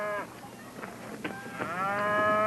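Dairy cows that are overdue for milking moo loudly and close by, giving several long, drawn-out calls that overlap and swell toward the end.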